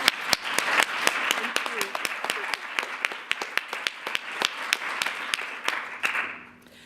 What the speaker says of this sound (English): Let's have a round of applause for those who made it.